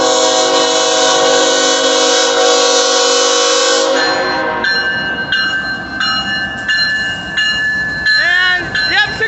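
BNSF freight locomotives lead an empty intermodal train past, a loud horn blast sounding for about four seconds before the rumbling, clanking cars roll by with squealing wheels, close and continuous.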